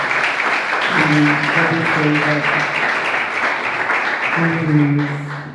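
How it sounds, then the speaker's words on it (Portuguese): Church congregation applauding together during a worship service, a dense sustained clapping wash with a few voices singing or calling out over it. "Aplauda o Senhor Jesus"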